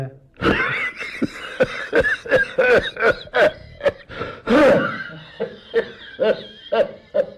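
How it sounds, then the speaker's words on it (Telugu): An elderly man coughs in a long, rapid series of harsh, close bursts, interrupted by a strained wheeze, with no clear speech, in a stage play. "పెద్దయ్యకు మళ్ళీ దగ్గు మొదలైనట్టుంది"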